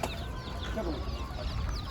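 Chickens clucking amid the bustle of a live poultry market in Ankara, a steady murmur of birds and crowd noise with no clear standout call, people talking faintly in the background.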